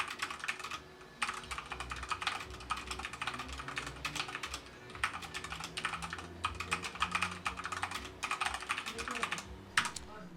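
Continuous rapid typing on a Redragon Kumara gaming keyboard in a quiet room, dense clacky keystrokes with brief pauses, close and fairly loud throughout.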